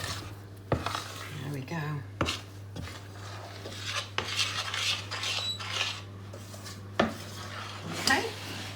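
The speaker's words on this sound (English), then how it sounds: "go all around the edges of your pan and get any lumps that are left at the side and just stir it in" Gingerbread mixture is stirred in a pan, with scraping and clattering of a utensil around the pan's edges and occasional sharp knocks. A person talks briefly in between.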